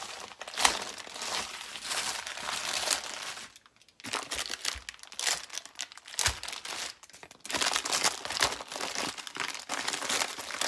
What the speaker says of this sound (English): we're just going to take our parchment paper, and to start with, you're just going to fold it over.